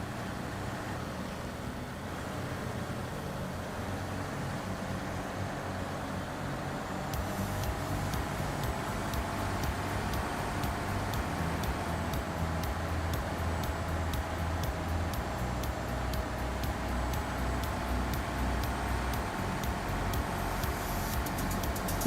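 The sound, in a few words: truck engine whining in high gear in video game Snowrunner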